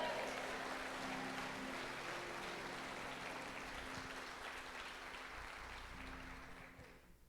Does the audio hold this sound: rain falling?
no